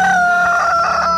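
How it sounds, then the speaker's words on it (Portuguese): A rooster crows once, a loud, close cock-a-doodle-doo with a bright tonal call that rises and trails off, over a steady low background hum. "O galo cantou"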